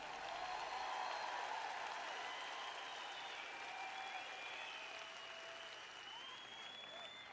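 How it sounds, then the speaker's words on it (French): Soft, distant applause from a large church congregation at a sermon, a steady wash of clapping with faint whistle-like tones running through it for several seconds. "Je ne reçois pas beaucoup d'applaudissements pour cela."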